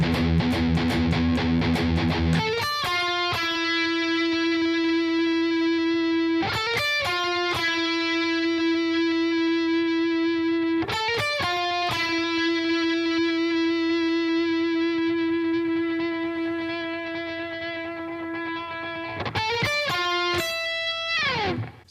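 Distorted electric guitar lead, played loud and alone with effects and reverb: sustained ringing notes broken by short bursts of picked attacks, repeating in phrases several seconds apart.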